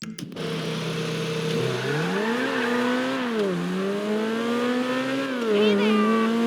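A synthetic car engine in GTA 5 revs up and down steadily, its pitch rising and falling in smooth sweeps, loud and continuous.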